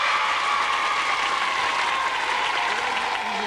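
Studio audience on a 1991 Australian children's game show claps in a steady, dense burst of applause that carries evenly through the whole stretch, close and full with no pauses.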